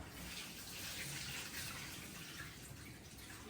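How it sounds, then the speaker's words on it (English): Soaking water is poured off salted saltfish in a kitchen, giving a steady, continuous splashing stream throughout. "I'm gonna just pour off this water off right."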